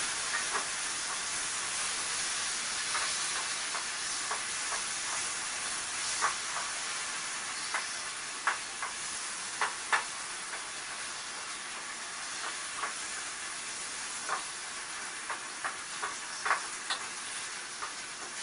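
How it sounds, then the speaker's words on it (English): Taco meat frying in hot oil in a pan while being stirred, a steady soft hiss and sizzle throughout with scattered sharper crackles and pops, moderately quiet and close, no voices. "add our meat to the oil. Fry it up."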